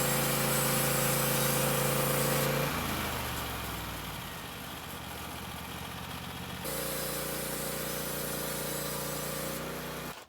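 A Norwood sawmill's engine runs loud and steady, dropping to a lower labored drone for several seconds as the blade takes a thin sliver off a log, then returning to its higher idle.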